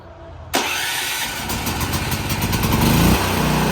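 A whole-home standby generator engine cranks and catches after a key start, then settles into a loud, steady running roar that builds slightly over a few seconds.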